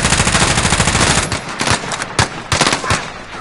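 Video game gunfire: a sustained burst of rapid automatic fire, loud and close, followed by several separate sharp single shots with short gaps between them, no speech.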